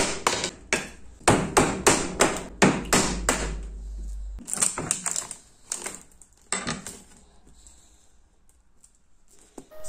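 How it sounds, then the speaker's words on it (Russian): Sharp knocks and raps sound as wooden formwork is taken apart around a resin-cast oak blank, starting as a quick run of hammer-like strikes, then scattered clatters and thuds, with quiet stretches toward the end. "Разбираем опалубку."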